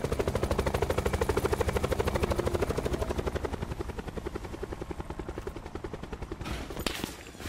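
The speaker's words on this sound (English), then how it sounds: "There's another helicopter right over here." A helicopter in the Call of Duty Black Ops 4 video game thunders steadily overhead, its rapid rotor chop loud and continuous, easing slightly before a brief sharper burst near the end.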